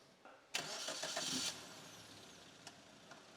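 A new car with a brake problem is started: a brief cranking, then the engine catches with a loud roar for about a second before settling into a quieter steady idle, with a couple of small clicks afterward.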